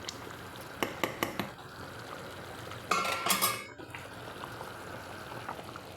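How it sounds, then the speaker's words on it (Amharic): Kushari sauce with sugar, hot water and salt bubbles faintly in a pot, with a few sharp clinks of a utensil and a brief louder sizzling burst midway. "ሶሳችን ብክ ብክ እያለ ነው።"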